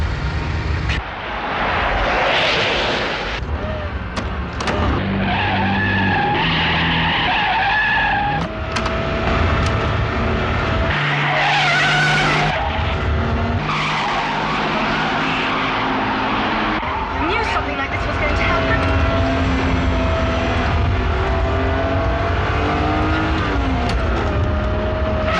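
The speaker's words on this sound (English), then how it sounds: "I've taken my foot off the gas pedal, but we're still accelerating." Car engine roaring as it accelerates with a jammed gas pedal, loud and continuous with tyre skids and shifting engine pitch, under tense voices and dramatic sound.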